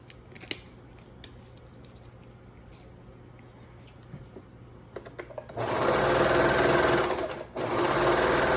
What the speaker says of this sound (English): If you are using a sewing machine, just go over it multiple times.